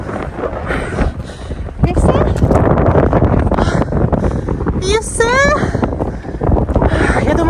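Strong wind in the mountains near Grassy Lakes buffets the microphone in heavy, roaring gusts throughout, with a voice speaking briefly over the rumble.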